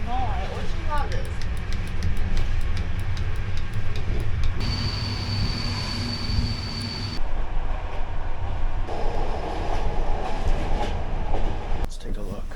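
A train arrives at a station in Bulgaria: a steady rumble of rolling wheels with clacking over the rails and a sustained high squeal partway through. Talk runs over the noise throughout.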